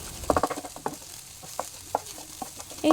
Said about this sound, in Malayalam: ആവശ്യത്തിന് കുരുമുളകും ആവശ്യത്തിന് ഉപ്പും ചേർത്ത് നല്ലോണം ഒന്ന് നമുക്ക് സ്ക്രാമ്പിൾ ചെയ്തെടുക്കാം